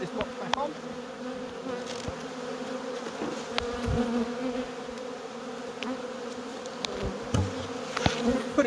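Dense, continuous droning of many honey bees around a hive box being cleared with a rhombus bee escape, close and steady with occasional individual bees zipping nearer and a few knocks of handling.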